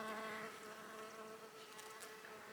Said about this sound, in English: Bees getting in and getting all that pollen and nectar.